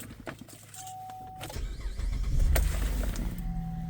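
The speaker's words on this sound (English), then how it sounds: "we're gonna turn the vehicle on" A 2011 Chevrolet Malibu starting up: a brief whir and click, then the engine catches at about 1.5 seconds and settles into a steady low idle, close by with no talk.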